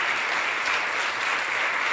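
A congregation claps in church, a full and continuous burst of applause from many hands, steady and moderately loud throughout.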